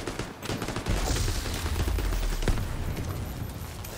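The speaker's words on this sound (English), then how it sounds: "That's a pretty strong turret." Heavy automatic turret gunfire in The Division 2, a dense, continuous rattle of shots filling all four seconds at steady loudness with a sharper burst near the middle, no voices over it.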